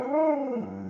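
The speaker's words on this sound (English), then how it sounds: "Dog's talking to us." A dog lets out one close, loud, drawn-out whimpering whine that rises and falls in pitch, then tapers off into a softer low tone.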